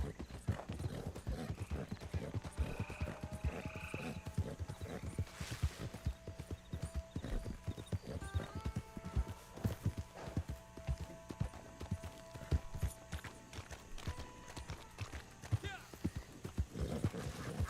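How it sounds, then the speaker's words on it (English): A black Turkoman horse in Red Dead Online gallops with quick, rhythmic hoofbeats, close and steady, a brief whinny in the middle, while a person talks over it. "this black Turkoman, in my opinion, is like the best looking horse in the game"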